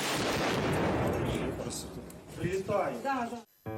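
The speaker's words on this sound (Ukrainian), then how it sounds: "Рятували двох дорослих і дитину під канонаду обстрілів і вибухів." Artillery shelling and explosions rumble through an evacuation of two adults and a child from an apartment building, a dense roar of booms and blasts that fades as a voice comes in near the end, followed by a brief silence.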